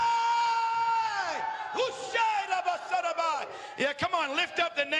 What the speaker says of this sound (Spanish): Quisiera que alguien gritara aquí esta noche.